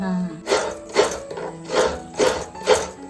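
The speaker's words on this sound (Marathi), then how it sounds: "खोबरा किसून झालेली आहे ही शेवटची वाटी राहिलेली आहे ती पण आई व्यवस्थित किसून घेते" Coconut being grated by hand in a Konkan village kitchen, with rhythmic scraping strokes repeating about every half second, fairly close, over faint background sound.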